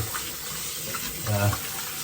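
Water runs from a kitchen sink tap in a steady, moderate splash during rinsing, with a brief low thump midway and nobody speaking.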